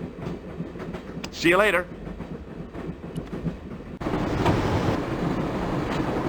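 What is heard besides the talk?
train running on rails in video game Broken Sword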